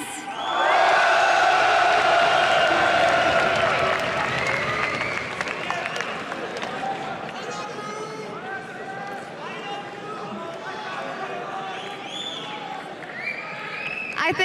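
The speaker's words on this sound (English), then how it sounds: "they deserve one hell of an applause as well." Loud crowd applause and cheering at a 2013 League of Legends LCS esports match that swells at the start, then settles into steady clapping with scattered whoops, broad and roomy.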